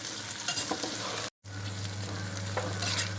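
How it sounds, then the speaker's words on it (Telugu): Green chillies fry in hot oil for old tamarind chutney, a steady close sizzle with stirring scrapes that cuts out briefly and resumes with a low hum. "మిరపకాయలు దోరగా వేగుతున్నాయండి."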